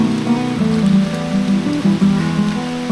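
Steady, dense rain falling at Pala-U waterfall, with a continuous wash of water over a low droning background.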